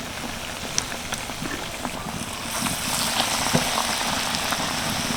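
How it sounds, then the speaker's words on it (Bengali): Cauliflower chops deep frying in a generous amount of hot oil, a steady dense sizzle and crackle with scattered pops that grows slightly louder and busier midway, close and alone without talk. "তেলের পরিমাণটা যেহেতু বেশি আছে সেই জন্য আমি একসাথে অনেকগুলো চপ ভেজে নিতে পারবো"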